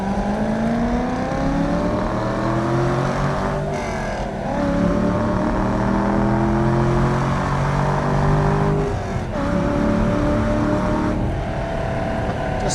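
A 2002 Chevrolet Corvette Z06 with a 5.7-liter LS6 V8 and six-speed manual accelerates on a drive, its engine note rising steadily through the gears with brief dips at shifts, loud and continuous from inside the car.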